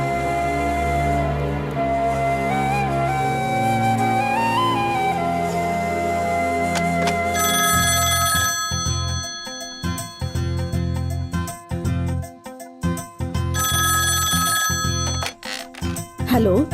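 A telephone bell rings in a domestic scene, a repeated electronic trill arriving after several seconds of voices and music, ringing loudly in bursts with talk around it.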